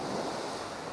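Ocean waves wash ashore at Nai Thon Beach, Phuket, in a soft, faint rush. The one-second burst of surf is mixed with light wind noise on the microphone, and no one speaks.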